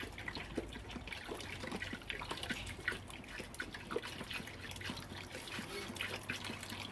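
Water trickles and splashes faintly into a container as 6 liters are poured for homemade lemon balm juice, a continuous soft gurgle with small drips and a little background talk.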